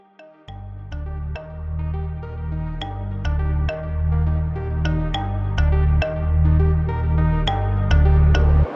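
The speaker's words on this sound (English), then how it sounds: "I've got a phone call." A mobile phone rings for an incoming call with a repeating melodic tune over a deep bass pulse, loud and steady throughout with no talking.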